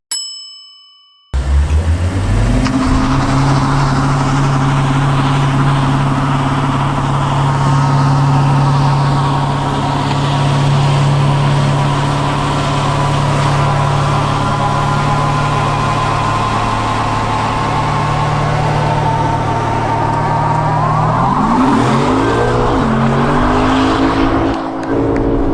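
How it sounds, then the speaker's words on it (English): A 2019 Lexus RC F V8 holds a loud, sustained high-rev roar during a burnout, a long steady howl with harsh tire noise that dips and swings near the end, after a brief chime at the start. "Let me guess, big burnout?"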